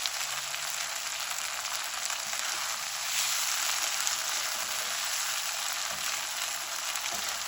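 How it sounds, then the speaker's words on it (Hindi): Food frying in a pan on a stovetop gives a steady, bright sizzle that swells slightly midway, continuous and close with no talking. "बस इसको फ्राई करेंगे"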